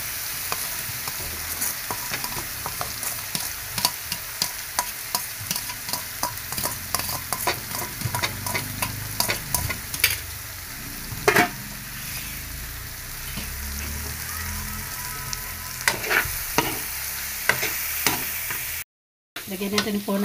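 Mung beans and tomato stirred and sautéing in a hot pan, a steady close sizzle with repeated scraping stir strokes throughout, no voices.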